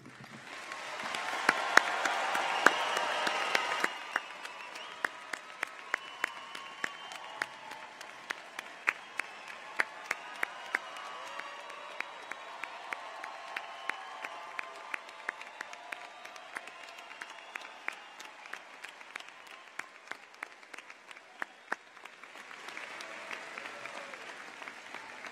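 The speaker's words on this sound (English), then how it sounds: "judging from the applause, it is clear that each of you should feel proud of your accomplishments" A commencement crowd applauds the graduating class at a fall ceremony, a broad, sustained wash of clapping that swells early, then continues steadily with sharp individual claps standing out, heard from within a large hall.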